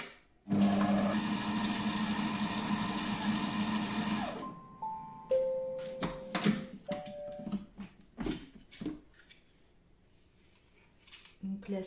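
A Monsieur Cuisine Connect kitchen robot mixes mascarpone for tiramisu, whirring loudly and steadily for about four seconds before stopping, followed by beeps and scattered clicks and knocks of handling.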